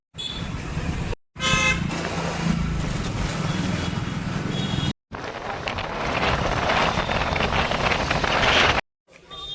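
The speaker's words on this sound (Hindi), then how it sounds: "गोलू सेठ गाड़ी चला रहे हैं, मंडी से निकलने वाले हैं" A vehicle pulls out of a busy Indian vegetable market, with loud road and engine noise and horns tooting in the surrounding traffic, broken by brief cuts into silence.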